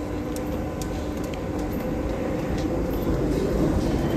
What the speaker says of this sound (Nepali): एउटा मेट्रो गयो अब सेकेन्ड मेट्रो वेट गर्नुपर्ने हुन्छ